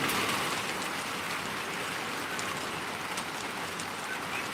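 Heavy rain pounds steadily on a roof during a night deluge in Mountain View, Hawaii, a dense, loud, hissing patter of hard drops with no letup and no voices.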